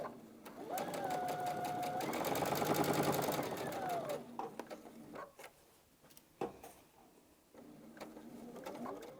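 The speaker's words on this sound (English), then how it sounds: "we're going to go back to the sewing machine" A sewing machine stitches a quarter-inch seam along a pillowcase's bottom edge in a steady mechanical whir for a few seconds, followed by quieter clicks and handling noises.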